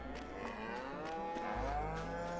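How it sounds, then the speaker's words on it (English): Cows moo in Farming Simulator 22 on the Elm Creek map, long drawn-out bellows that overlap and swell, one deeper call joining partway through, loud and close with no talk. "So on this side we have the cows."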